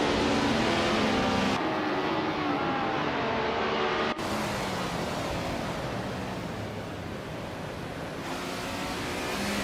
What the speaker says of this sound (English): leading the pack is the Group 6 car, bought by Wart. In a classic 1977 Porsche 936